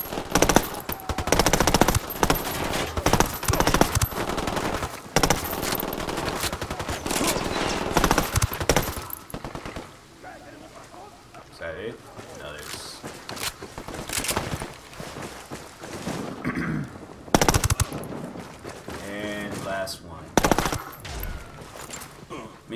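Gunfire from a weapon in Tom Clancy's Ghost Recon Wildlands, loud bursts of automatic shots rattling through the first half, then sparser, fainter volleys and single shots later with other game sounds between.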